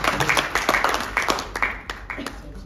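An audience at an educational seminar on the import and export business claps a welcome, a string of distinct, fairly close claps that loosen and thin out toward the end.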